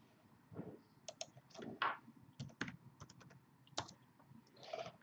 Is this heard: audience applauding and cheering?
no